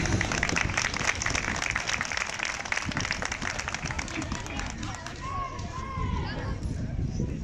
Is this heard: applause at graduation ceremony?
yes